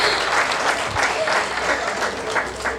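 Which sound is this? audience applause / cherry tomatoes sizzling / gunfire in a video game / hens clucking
audience applause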